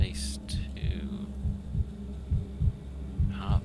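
Stethoscope heartbeat in the video game Pathologic 3: a steady, low, muffled double thump repeating about once a second over a soft hum, with brief faint higher tones near the start and end.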